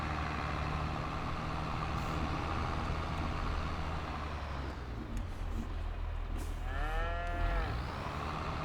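Cows mooing in Farm Sim 22, with one long, drawn-out moo rising and falling near the end over a steady low rumble of a farm truck engine, no talk.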